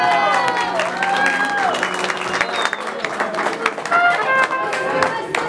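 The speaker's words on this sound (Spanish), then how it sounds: "Claro que sí, el aplauso." An audience at a birthday party claps for a mariachi performance, a moderately loud, bright round of applause mixed with a voice and tonal sounds running over it.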